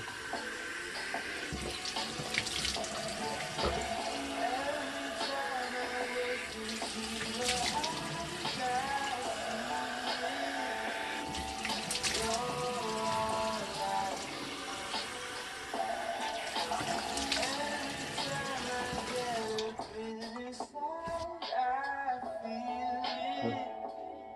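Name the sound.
water running from a tap while rinsing the face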